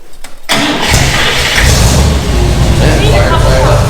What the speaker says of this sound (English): Those nailheads, they have a different sound to them, man.